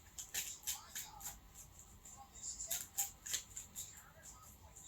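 Cards being shuffled by hand, with soft riffling and papery slaps in quick, uneven bursts, close and fairly quiet.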